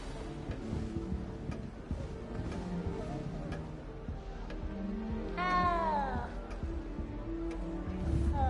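A cat in Hogwarts Legacy meows, a clear rising-and-falling call midway through, set against busy game ambience, music and murmured voices.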